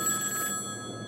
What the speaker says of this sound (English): Until an hour later when my house phone rang.